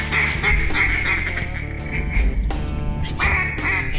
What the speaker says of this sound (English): Shoot those ducks, shoot them.